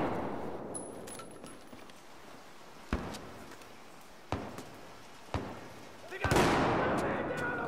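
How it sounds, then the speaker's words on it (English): Sniper rifle shots in Battlefield 4, heard as a few sharp, isolated cracks spaced a second or more apart over quiet ambient game noise, with a louder blast near the end. "Oh, I'm getting sniped at."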